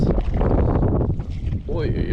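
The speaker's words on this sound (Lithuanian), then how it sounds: "tad šoninis vėjas labai nepatogus" A side wind buffets a fishing boat on a lake, rough gusty wind noise roaring against the microphone across the short stretch.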